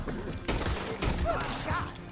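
Gunfire in the Red Dead Redemption 2 video game during a chapter 4 shoreline shootout, with a few sharp shots ringing out over a noisy battle mix while people talk in the background.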